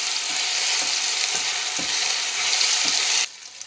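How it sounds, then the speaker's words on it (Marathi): Ginger garlic paste fries in a pan over a low flame, a steady close sizzle with soft periodic stirring scrapes that cuts off abruptly near the end. "आलं लसणाची पेस्ट मी साधारण अर्धा मिनिट परतून घेणार आहे."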